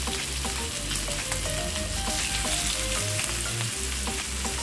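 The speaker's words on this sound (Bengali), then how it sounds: "মিডিয়াম রেখে মাছের দুই পাশে আমি খুব ভালোভাবে ভেজে নেব।" Hilsa fish pieces frying in oil in a pan over medium heat, a steady dense sizzle with crackling spits that runs without a break, close and fairly loud, no voices.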